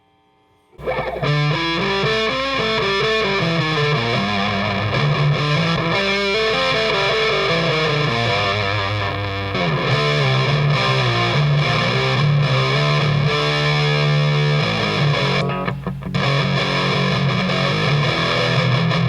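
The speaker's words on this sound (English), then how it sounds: "You get kind of this reflective room sound." Distorted electric guitar through an effects pedal, washed in roomy reverb that rings and smears the notes together, loud and continuous.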